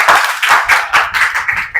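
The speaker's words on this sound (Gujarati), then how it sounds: "તાળીઓ થઈ જાય ભાઈ ભાઈ" Students clapping along in a classroom, a rhythmic series of about eight sharp group claps in steady time, close and loud.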